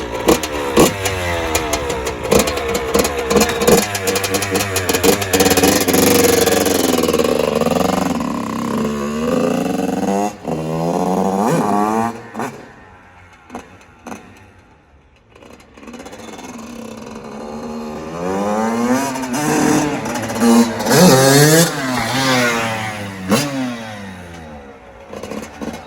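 A Yamaha YZF-R 150 motorcycle engine is started and revved, loud and close, with rising and falling rasping revs, a brief dip to near idle midway, then more hard revving.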